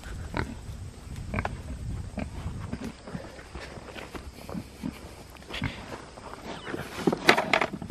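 Pigs grunting and snuffling as they eat garden harvest scraps, irregular low grunts close by over rustling and shuffling movement, with a sharper burst of noise near the end.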